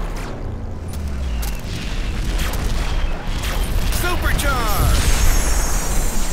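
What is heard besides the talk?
airstrike explosions in Hot Wheels Beat That! video game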